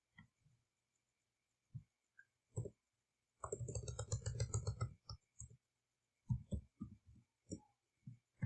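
Keys clack on a computer keyboard in scattered taps and one quick run of rapid keystrokes, close and quiet with pauses between.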